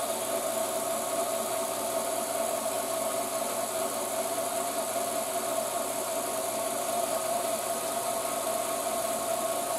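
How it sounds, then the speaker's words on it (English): A diffusion pump pulls trapped gas out of a handmade Edison effect lamp while the getter is preheated, giving a loud, steady, unbroken mechanical hum and hiss with no talking. "that's being pumped out by the diffusion pump"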